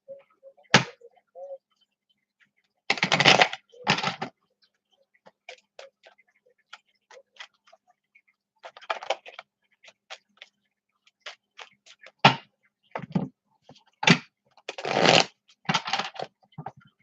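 Cards riffle and snap in short bursts separated by quiet pauses, with scattered light ticks and taps between shuffles, close and crisp.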